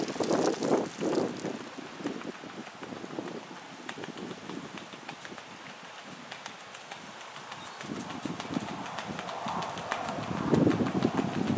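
A ridden sale horse's hooves clip-clop along in an uneven rhythm, heard amid gusty wind buffeting the microphone, with bursts of louder rumble at the start and end.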